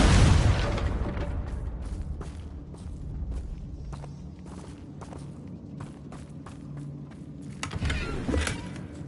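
A Confringo explosive spell goes off in Hogwarts Legacy, a loud burst at the start that decays into rumbling game ambience with scattered small clicks and a second swell near the end.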